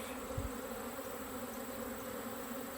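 Honeybees buzz steadily inside an opened nuc hive, a continuous low droning hum held at an even level close by, with no voices.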